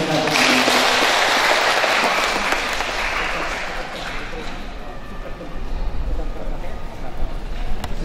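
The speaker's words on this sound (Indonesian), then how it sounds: "Tepuk tangan untuk mereka." Applause from wedding guests for the bride and groom at a church ceremony, a dense wash of clapping that is loud at first and then thins and fades over several seconds.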